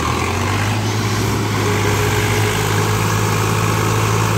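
Two Mahindra tractors, a 575 and a 735, run together while pulling a stuck trolley free, their diesel engines making a loud, steady, low rumbling drone close by.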